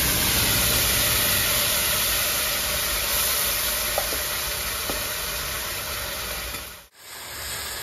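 Dry red chillies, panch phoron and ginger-green chilli paste hit hot oil in a pan, giving a loud, steady close sizzle and hiss that cuts off abruptly near the end.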